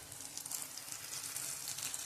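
Curry leaves, peanuts and spices sautéing in hot oil for a green moong usal give a steady, moderate sizzle with light crackles and stirring scrapes, ending in a sudden louder clatter.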